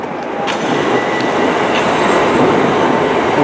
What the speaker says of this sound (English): Here we have a class 165-166 network of turbo on platform 2,